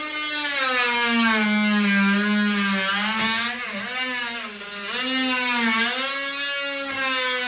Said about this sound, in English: just trim out this board a little bit with our multi-tool